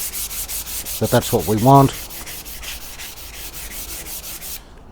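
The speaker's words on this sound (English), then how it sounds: "So now I'm just about to rub the grain filler coat off, and I'll start with the back panel" Sandpaper rubs grain filler off a wooden back panel in quick rhythmic strokes, close and scratchy, with someone speaking briefly partway through before the sanding continues alone and then stops.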